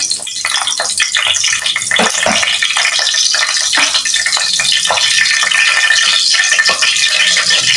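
Mustard seeds and cumin hit hot oil for a dried prawn fry, making a loud, close, rattling crackle packed with quick pops that keeps up without a break.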